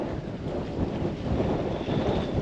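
Steady wind buffets the microphone on the Norfolk Broads in October, a dense low roar with gusty swells and no voices.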